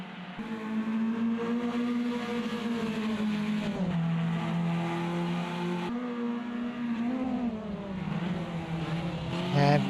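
Formula Inter race cars in Automobilista 2 howl through a wet S chicane at Santa Cruz do Sol, engines rising and dipping through gear changes, loud and continuous with spray hiss.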